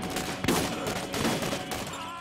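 Rapid gunfire in the Borderlands video game, a dense, continuous burst of shots with louder cracks mixed in, filling the whole moment without pause.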